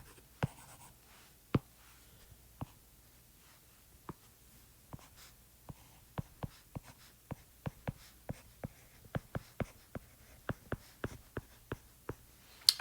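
Writing on a board or paper while working through a math problem, a series of short, crisp taps and scratches that start sparse and become quicker and steadier, close but quiet with no talking.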